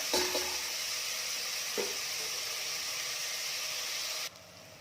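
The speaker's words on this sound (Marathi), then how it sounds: "कांदा रंग बदलेपर्यंत छान भाजून घेऊया" Onion frying in a pan with a pinch of salt gives a steady, bright sizzle that holds level throughout, with a couple of faint utensil taps early on before it suddenly drops quieter near the end.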